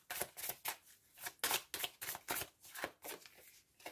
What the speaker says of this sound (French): Allez, une dernière carte pour la conclusion.